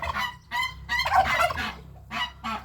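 Geese honk repeatedly in short bursts, fairly close, with a steady low hum of rain underneath, on a wet, muddy farmyard in spring.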